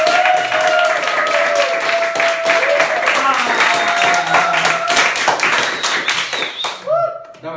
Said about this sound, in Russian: Прошу встретить громкими и бурными аплодисментами и овациями.